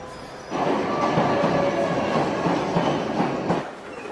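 A London Underground Olympia service train at Earl's Court rolls past close by, a steady loud rumble with rhythmic wheel clatter that sets in after half a second and fades toward the end.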